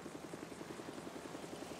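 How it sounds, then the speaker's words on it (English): A police helicopter hovers in GTA 5, its rotor beating in a fast, steady, faint thump under broadband engine noise, with no voices. "The helicopter's still in the air."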